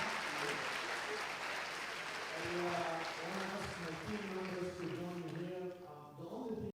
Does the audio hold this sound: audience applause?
yes